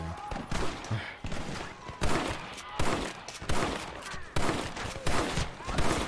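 Bolt-action rifle fire in Red Dead Redemption multiplayer comes as a string of about eight loud, sharp reports at a fairly even pace, each followed by a short decaying tail, with game noise between them.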